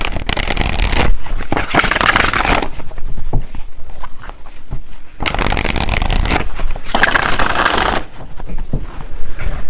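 A tarot deck being shuffled in loud bursts of riffling and rustling, with two main shuffles separated by quieter handling and tapping of the cards.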